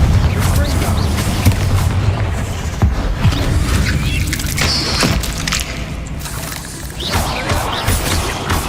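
Explosions from a Confringo spell in the wizarding game Hogwarts Legacy, loud repeated booms and crashing impacts in a tomb, with voices talking over the blasts.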